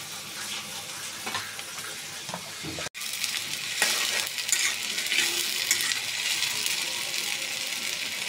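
Ginger, garlic and onion paste frying in hot oil with already fried potatoes, a steady broadband sizzle with scraping stirs and a brief drop in sound near the middle, no talking.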